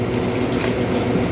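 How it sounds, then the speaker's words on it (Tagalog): Broth being poured into a glutinous dough mixture for steamed carrots with peanut butter, a brief steady liquid splash and bubbling wash close by, with no voices. "Dagdagan natin ng kaunting sabaw."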